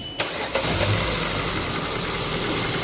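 A Ford Fiesta 1.4 petrol engine cranks briefly and catches after a timing belt change, then settles into a steady, close, even idle hum for the rest of the clip.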